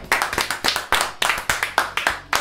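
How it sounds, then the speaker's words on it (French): A small group claps in loose, uneven bursts after a game, with distinct sharp hand strikes rather than a dense roar, fairly close and loud. "On peut vous applaudir"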